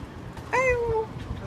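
Homeless stray cats being fed in the Bronx, New York City, with one clear, drawn-out meow rising and falling near the mic over a low street-like background hum.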